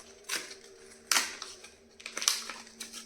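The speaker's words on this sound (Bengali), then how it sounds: "এর খাপটা কিন্তু খুব ইজিলি রিমুভ হয়ে গেল" A plastic cover is pulled off a kids' toothbrush with a rubber grip, giving three short crinkly clicks and snaps close by, with quiet gaps between them.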